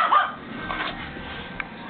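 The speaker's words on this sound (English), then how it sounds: "What are you barking at?" A small dog gives a few short, fairly quiet barks and yips nearby.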